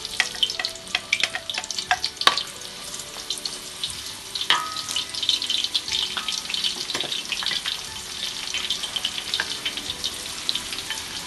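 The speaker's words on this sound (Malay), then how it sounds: "Semua bahan-bahan ni hendak digoreng dulu." Food sizzles and crackles in hot oil at close range, with occasional sharp pops and stirring clatter, steady throughout and no voices.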